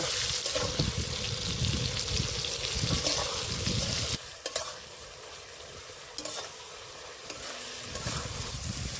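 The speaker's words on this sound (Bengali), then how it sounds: "পেঁয়াজের সাথে টমেটাও দিয়ে দেব এবার পেঁয়াজগুলো লাল লাল করে ভেজে নেব" Onions and tomatoes fry in a pan for mutton ghugni, a steady close sizzle running throughout with scraping stirs, loudest over the first four seconds and then settling to a softer hiss.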